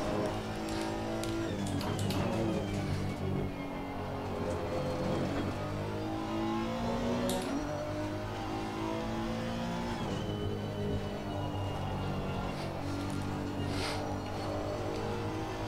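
A race car in a racing video game on a competition server roars through gears, its engine revving and falling in sustained, loud sweeps with occasional sharp bursts, close and continuous with no talk.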